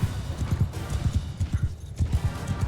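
Horse hooves pound in a fast, steady galloping rhythm during a battle in Mount & Blade II: Bannerlord, close and continuous with no talk over them.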